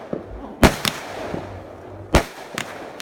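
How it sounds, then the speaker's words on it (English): Backyard New Year's fireworks for 2018 go off as sharp, loud bangs, several sharp cracks with a few softer pops between them, the bursts spaced irregularly over a quiet night. "here is our 2018 fireworks."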